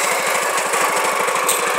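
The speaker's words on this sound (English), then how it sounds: "Good tractor, starts right up." A 1968 International Cub Cadet 482 garden tractor runs with a loud, fast, even engine chug, a steady mechanical putter close by with no pauses or voices.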